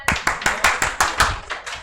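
Several people in a finance class clap together in short, evenly spaced bursts, about eight distinct hits in under two seconds, close and fairly loud with no talking.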